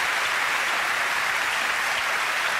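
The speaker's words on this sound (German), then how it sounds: "währenddessen begrüßen wir mit einem großen und sehr, sehr herzlichen Applaus Martin Oppermann" Warm studio audience applause at a live German TV entertainment show in Offenburg, a steady, even wash of clapping from a large crowd throughout.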